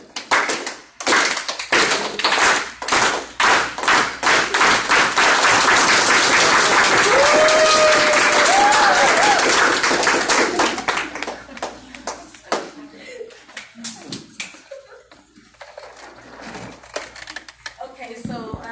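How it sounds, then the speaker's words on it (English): A group unity clap at a community freedom school event, starting as slow separate claps that quicken into a loud, dense burst before fading to scattered claps, with voices heard at the end. "can we just do a unity clap real quick?"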